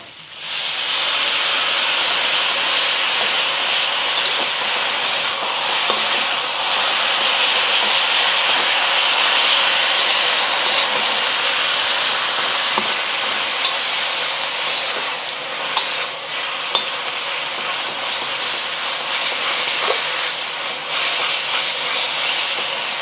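Sauce hits noodles crisping in a hot pan, setting off a loud, steady hiss and sizzle of steam and frying that holds for over twenty seconds, with occasional clicks from stirring and no voices.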